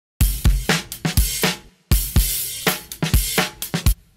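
A drum loop sample from Splice played back in Reason 10: punchy kick and snare hits with bright cymbal wash in a busy rhythmic pattern, loud and close, repeating after a brief gap.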